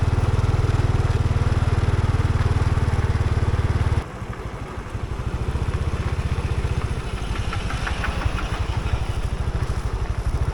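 A small single-cylinder two-wheel walking tractor engine chugs loudly and steadily nearby, its rapid putter shifting to a lighter, rattling rhythm partway through, with mechanical clatter.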